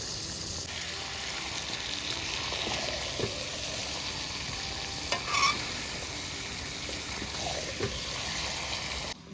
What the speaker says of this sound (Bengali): আমার মশলাগুলো ভাজা হয়ে গেছে এলা দিয়ে দিই মুই মাংসটা